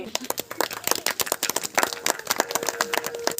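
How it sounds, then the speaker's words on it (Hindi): Children clap in welcome at a Banjara community village gathering in Motipura, Gangapur: scattered, uneven handclaps come in quick, fairly quiet bursts, with voices faintly underneath. "बच्चे जोरदार तालियों के साथ इनका स्वागत करें।"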